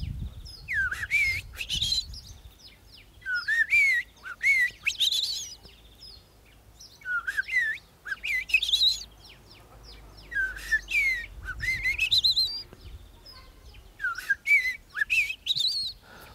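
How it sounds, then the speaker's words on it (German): A Eurasian blackbird sings alone and close by, delivering repeated short whistled phrases with fluting warbles and high twittering ends, separated by brief pauses, over a quiet low background rumble. "Also wenn die Amsel jetzt singt,"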